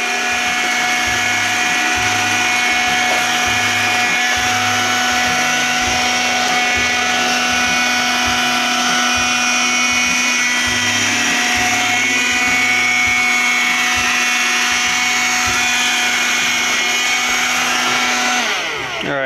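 An iRobot Scooba 5800 floor-cleaning robot running in dry vacuum mode gives a loud, steady motor whine with a rhythmic low thumping beneath it, continuous and close throughout with no talking.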